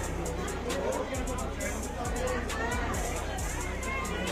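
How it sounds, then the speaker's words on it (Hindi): Dense, steady crowd babble at the ISKCON temple in Delhi, many voices blending into a continuous hubbub close around, with footsteps and faint clatter mixed in. "सभी देख सकते हैं आप लोग, बहुत भीड़ भी है।"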